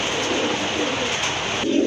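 A pair of Rajgolla pigeons coo softly and continuously at close range.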